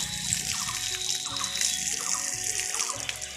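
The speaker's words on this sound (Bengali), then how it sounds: "বাড়াইতলার কলে এসেছি আমরা আমি এবার মুখ ধুয়ে নেবো" Water from an outdoor village tap splashes and runs steadily while someone washes their face, a continuous close gush with brief splashing irregularities.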